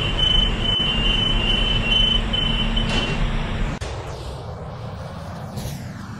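A Roblox R110A subway train rumbles along with a high metallic wheel squeal, then the roar drops off abruptly and the noise thins out as it slows.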